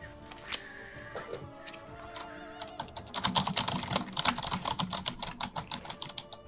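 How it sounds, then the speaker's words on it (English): Furious typing on a computer keyboard, rapid uneven clatter of keystrokes that starts sparse and builds into a dense, loud flurry of clicks, close by with no talking. "Some furious typing."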